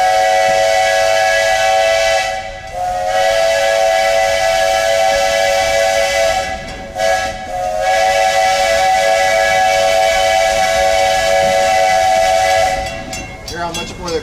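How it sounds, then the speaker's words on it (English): A steam locomotive whistle sounds loud and close at a level crossing, holding long sustained blasts with short breaks in between, a rough hiss of steam and rumble underneath. "Hear how much more aggressive they are with the whistle on this crossing than the others?"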